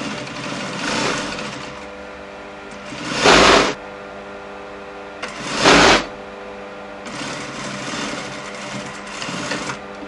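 A sewing machine stitches a shirt collar in steady runs of whirring, with two short louder bursts of fast stitching in the middle and a final stretch of running near the end.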